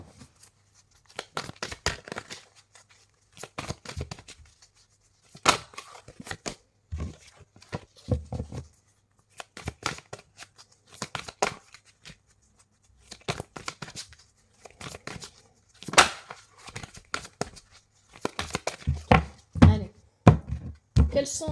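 Tarot cards being shuffled, with repeated bursts of crisp flicking and riffling separated by short pauses, close and fairly loud, no talking.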